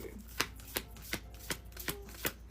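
Tarot cards being shuffled in a series of soft, regular riffling bursts about every third of a second, close and fairly quiet, with no talking.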